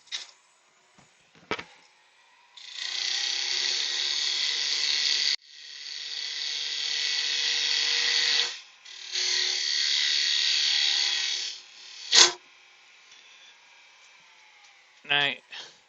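A laminated plywood pear being turned on a wood lathe, the end tidied and a spigot cut: several sustained bursts of high, hissing cutting noise with brief gaps, close and fairly loud, ending in a short squeal.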